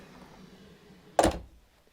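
A single firm latch thunk as a Prestige 590 yacht's entrance door is shut, one sharp close knock standing alone against a quiet background.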